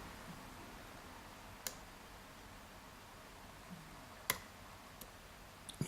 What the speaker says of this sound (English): Little clicking movement on the core from number 4